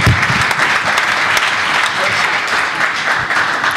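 An audience at a startup pitch event at the Hebrew University gives loud, stormy applause, with dense clapping that carries on without a break.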